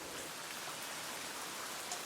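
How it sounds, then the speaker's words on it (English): A rain sound effect for animated weather flashcards: steady, soft hiss of falling rain pattering on a surface, continuous and even with no voices. "Rainy"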